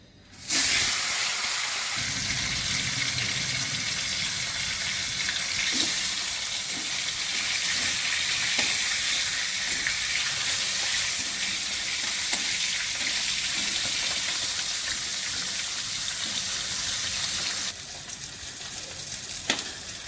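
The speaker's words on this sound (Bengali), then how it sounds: "প্রথমেই আমি মাছের মাথাগুলো ভেজে নেব।" Fish heads frying in hot oil give a loud, steady sizzle and hiss that runs continuously without talk, with a few faint clinks and a slight drop in intensity near the end.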